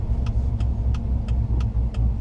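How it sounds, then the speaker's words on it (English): A car with a newly installed cam idles after rolling to a stop, its engine holding a low, steady burble with regular ticking pulses about every third of a second, close and fairly loud. "Car immediately finds its idle."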